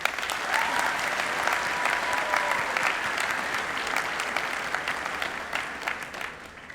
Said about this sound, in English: Let's give a well-deserved round of applause to the chorus.